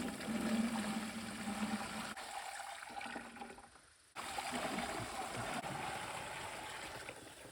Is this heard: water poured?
yes